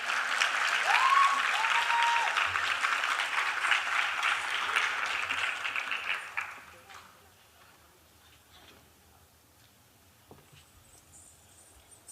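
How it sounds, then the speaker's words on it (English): Audience applause at a Bharatanatyam arangetram, a warm round of clapping that fades out after about six seconds into a quiet room with scattered small noises. "Malini can get some rounds of applause."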